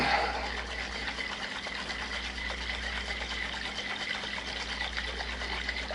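Steady, close sloshing and rattling of hot water and sugar shaken together for simple syrup, continuous for several seconds, no speech.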